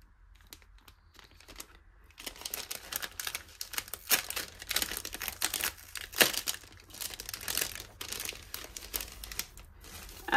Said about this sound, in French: On va d'abord ouvrir les petits cadeaux.